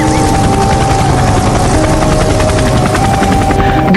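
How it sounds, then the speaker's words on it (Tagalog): A private helicopter in flight, a loud, close, continuous rapid rotor chop with steady pulsing beats throughout the clip and no talking. "Buti na lang binilan ako ni Dad ng private helicopter."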